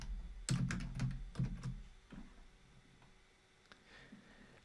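Quiet typing on a computer keyboard, a short burst of close, quick key clicks that slows to a few scattered taps.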